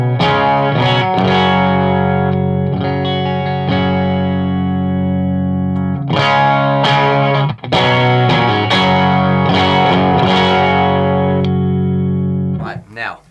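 Electric guitar through an amplifier set at the edge of distortion, strummed chords and picked notes with a slightly gritty, loud sustained tone, played continuously up close.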